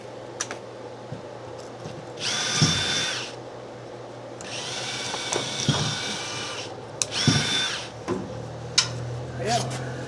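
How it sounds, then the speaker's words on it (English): A power drill bores a hole in a boat hull in several separate whirring bursts of a few seconds each, close up, with knocks and handling clatter between them and no speech. "Nobody likes drilling a hole in a boat,"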